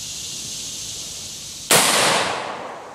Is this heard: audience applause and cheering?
no